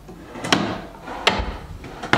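Drawers on a beech-wood bedroom dresser slide open and shut three times, each a close, sharp wooden thud-scrape with a quieter rumble between the strokes.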